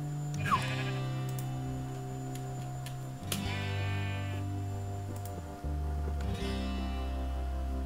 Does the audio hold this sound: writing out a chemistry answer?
no